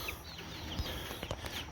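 Chickens cluck and squawk in a brief, faint, busy burst of overlapping calls outdoors by a coop.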